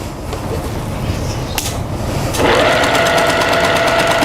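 Sewing machine stitching a quilt border, a fast even whir of the needle that rises sharply partway through as stitching speeds up, close and loud with no talk.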